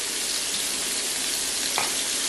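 Fish fries in oil in a pan at an anniversary night cook, a dense, constant sizzle filling the whole moment with one brief clink partway through.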